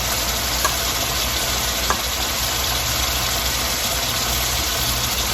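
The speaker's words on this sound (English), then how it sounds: "we're going to allow this to fry in here" Onions, green onions and garlic sizzle and crackle steadily in a hot pot, a dense continuous frying noise with a low hum underneath and a couple of faint clicks.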